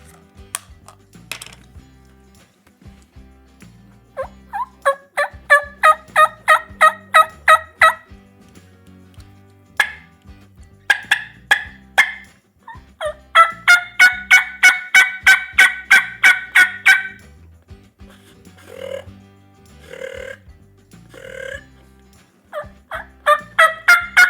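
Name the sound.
turkey mouth call with reeds imitating turkey calls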